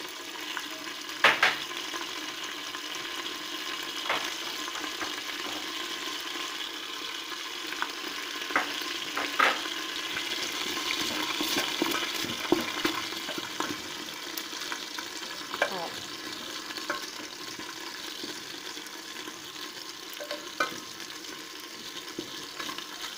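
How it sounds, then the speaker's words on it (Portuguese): Two garlic cloves sautéing in a pan for homemade coxinha filling, a steady close sizzle with scattered scrapes and clicks of stirring throughout, no talking. "eu vou refogar aqui 2 dentes de alho"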